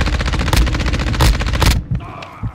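Rapid automatic gunfire in a Call of Duty video game on the Ashika map, loud sustained bursts with sharp individual cracks before cutting off into scattered quieter sounds.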